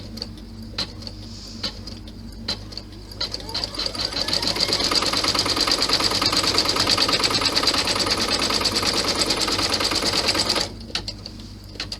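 An embroidery machine runs a fast, steady stitching rattle while sewing a 5x7 in-the-hoop golf ball bag. Scattered ticks come first, then about six seconds of continuous loud stitching that stops abruptly, with faint voice around it.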